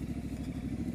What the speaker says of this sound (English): She didn't like the sound of that twin rumbling up against her gut.